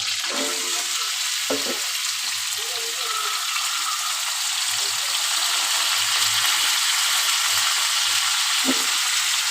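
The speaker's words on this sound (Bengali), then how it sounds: "মাথাটা ভেজে নিই" Fish head and potatoes sizzle in hot oil, a continuous hissing fry throughout with occasional stirring clinks and a few faint voice sounds in the background.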